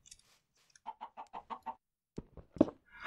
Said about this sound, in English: Chicken fright.